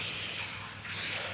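Xentari is sprayed against wax moths in a steady, hissing mist, close and continuous with a brief dip in the middle.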